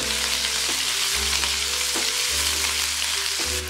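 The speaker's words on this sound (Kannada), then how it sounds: "ಈರುಳ್ಳಿ ಪೂರ ಮೆತ್ತಗೆ ಆಗಬೇಕು. ಅಲ್ಲಿವರೆಗೂ ಇದನ್ನ ಫ್ರೈ ಮಾಡ್ಕೊಳ್ಳಿ." Onions frying with cumin in a pan for a white vegetable kurma, a steady close sizzle with a few soft stirring scrapes and no talk.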